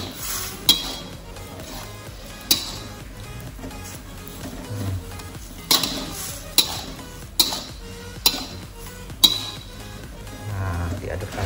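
Fried rice vermicelli is stirred in a pan for a vegetarian dish, with a steady scraping sizzle broken by a series of sharp clinks of utensil against the pan, close and moderately loud.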